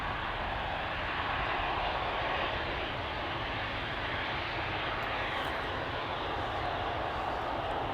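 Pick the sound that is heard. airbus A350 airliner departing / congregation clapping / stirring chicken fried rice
airbus A350 airliner departing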